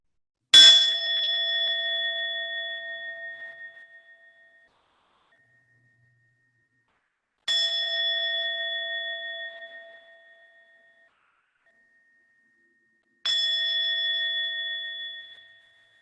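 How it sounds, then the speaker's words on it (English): A meditation bell is struck three times, several seconds apart, each strike ringing out clear and bright before fading slowly into silence. "We'll close out our sit, inviting the bell 3 times."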